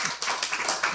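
A congregation claps together for a man at a church service, a brief burst of sharp, irregular hand claps without talk.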